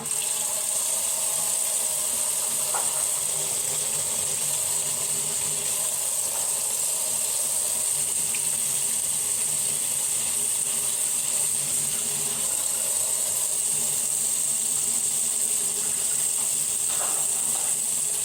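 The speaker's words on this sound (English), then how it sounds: "you want to cut on your cold water" Steady hiss of cold water running from a faucet, continuous and fairly quiet, with faint clinks of items now and then.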